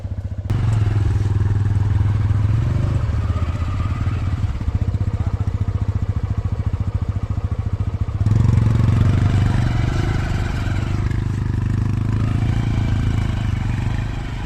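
A motorcycle cold-starts and keeps running on a hill road in Darjeeling, a loud, close engine chugging with a steady fast throb and a brief drop and surge partway through.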